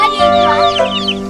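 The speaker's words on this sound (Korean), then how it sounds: "시장에서 파는 병아리를 이렇게 잘도 키워놨대" Chickens raised from chicks bought at a market cluck loudly and close by, a short burst of rising and falling calls with steady background tones beneath.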